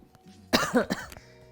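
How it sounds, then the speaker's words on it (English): Coughing fits from a person reacting to freshly poured powdered seasoning in a kitchen, three or four harsh, close coughs with throat clearing over quiet room tone. "Every time I pour this, it makes me cough."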